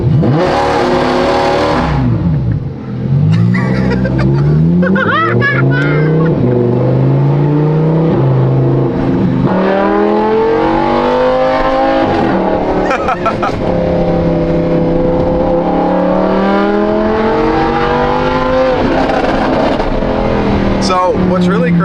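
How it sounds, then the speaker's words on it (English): A Lamborghini 5.2-liter V10 with an F1-style exhaust revs hard and loud, its high wailing pitch climbing and falling through repeated sweeps, while someone talks over it. "This is the best sounding V10 exhaust I've ever heard."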